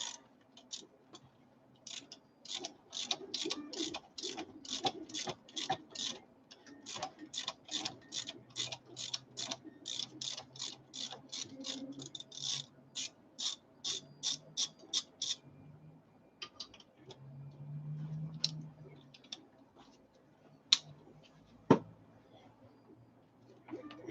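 Flywheel bolts come out with a ratchet wrench during a clutch job: a long, steady run of quick, close clicks, then sparser clicks and low rumbling near the end.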